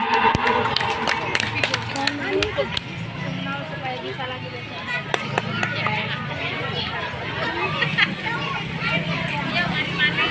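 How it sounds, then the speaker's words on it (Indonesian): Applause at an elementary school Independence Day speech event blends with a crowd's steady chatter, with sharp clap transients scattered through a continuous murmur of voices. "Tepuk tangan yang meriah"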